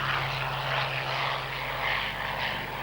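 A Supermarine Spitfire, serial AD540, drones past with a steady, moderately distant engine roar that swells slightly and then holds for a few seconds.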